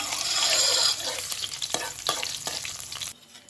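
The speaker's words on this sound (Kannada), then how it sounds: "ಒಂದು ಕಾಲು ಟೀ ಸ್ಪೂನಷ್ಟು ಮೆಂತೆಯನ್ನು ಹಾಕ್ಕೊಳ್ತಾ ಇದ್ದೇನೆ ಹಾಗೆ ಒನ್ ಟೀ ಸ್ಪೂನಷ್ಟು ಸೋಂಪನ್ನು ಹಾಕ್ಕೊಳ್ತಾ ಇದ್ದೇನೆ ಹಾಗೆ ಸ್ವಲ್ಪ ಕರಿಬೇವಿನ ಎಲೆಗಳನ್ನು ಹಾಕೋತಾ ಇದ್ದೇನೆ" Fenugreek seeds, fennel seeds and curry leaves hit hot oil in a pan, giving a loud, dense sizzle with a few sharp crackles and stirring scrapes before it drops off abruptly near the end.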